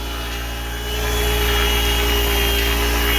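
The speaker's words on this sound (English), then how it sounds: "here we are starting the sanding prep." A steady, close power sander whirs and grinds continuously on the body panels of a 1983 Porsche 944, rising slightly in loudness after the first second, with no talking.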